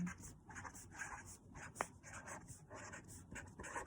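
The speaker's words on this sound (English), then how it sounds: "So I'm going to write out 1 through 10." Someone writes the numbers 1 through 10 by hand during a math lesson: quiet, rhythmic pen-on-paper scratching in short strokes, close and faint.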